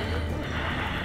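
A horse in The Walking Dead Season 4 video game lets out a short, close whinny, a single brief neigh over a busy game soundscape.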